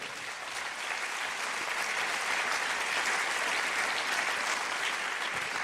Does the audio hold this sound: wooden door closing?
no